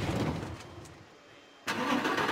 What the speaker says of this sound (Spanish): Arrancamos de nuevo el motor.